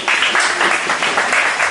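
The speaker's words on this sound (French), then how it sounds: "Acclamez le Seigneur." A church congregation applauds, a steady, dense wash of clapping filling the whole stretch at full loudness with no voices standing out.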